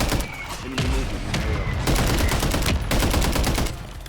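Gunfire in the shooter game Warzone rattles on as dense, close bursts of rapid automatic shots that overlap continuously and loudly for several seconds.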